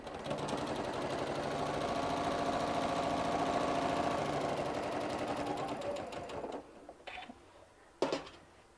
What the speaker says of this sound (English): She's also using the Janome M7 Continental machine.